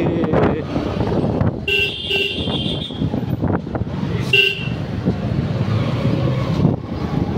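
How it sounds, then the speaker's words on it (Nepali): A vehicle horn sounds on a busy outdoor road in a short double toot, then a second brief honk a couple of seconds later, over steady traffic rumble and wind buffeting the microphone. "हर्न बजाउने चाहिँ ठाउँमा हामी हर्न बजाइदिन्छौँ।"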